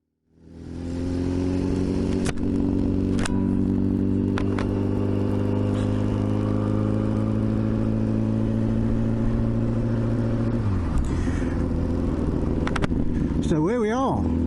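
A Kawasaki ZXR750 H1 motorcycle engine runs on a wet road. It starts up, then holds a steady close drone before shifting pitch near the end, with a voice speaking over it.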